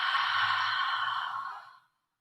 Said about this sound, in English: Take a big inhale through your nose and exhale through your mouth.